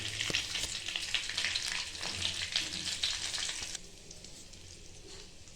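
Whole spices, a cinnamon stick, cloves and a cardamom pod, frying in oil: a loud, crackling sizzle that abruptly drops to a quieter, softer hiss partway through.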